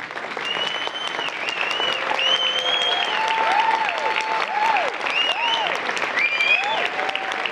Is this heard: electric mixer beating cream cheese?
no